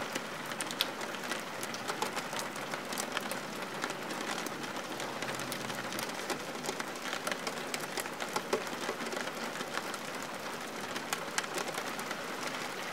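Steady rain falls in a dense, even patter, with faint bird calls underneath.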